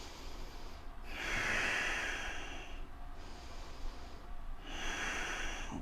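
Slow, deep breaths drawn through the nose during a yoga triangle pose, two long inhale-exhale cycles in close, steady rhythm over a faint background hum.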